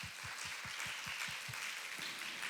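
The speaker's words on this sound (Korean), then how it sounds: "우리 큰 박수 부탁드립니다." Congregation at a Sunday church service clapping together in a room, a soft, even wash of applause with a faint rhythmic low thumping running beneath it in the first half.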